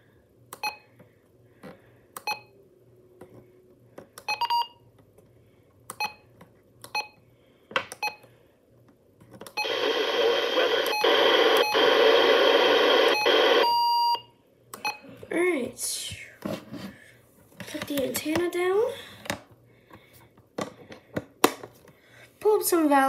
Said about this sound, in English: Some valid EAS tones.